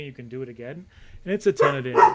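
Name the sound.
dog barking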